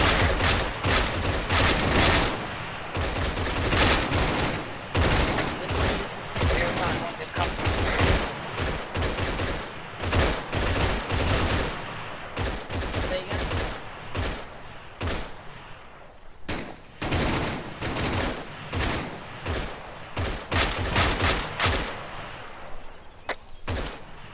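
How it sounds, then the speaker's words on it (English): Rapid bursts of automatic gunfire and single shots in the video game Arma, dense overlapping volleys from several weapons crackling loudly and continuously with brief lulls, no talk audible. "We've still got people shooting into the compound on the left-hand side."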